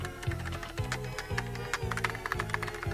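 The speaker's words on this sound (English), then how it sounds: "Slimer tapped away at the computer" Rapid tapping on a computer keyboard, a steady, dense patter of clicking keystrokes, close and continuous over a soft low background.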